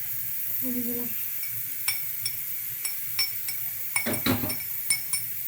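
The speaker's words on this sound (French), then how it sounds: "Maintenant, je vais mélanger l'huile avec le vinaigre." Oil and vinegar are stirred together in a bowl for muffin batter, with light metallic and glassy clinks of a utensil tapping the bowl in scattered clusters, close and fairly quiet.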